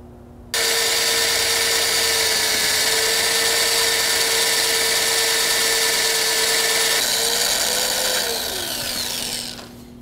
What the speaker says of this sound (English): there was a change in pitch of the drill and everything as I went through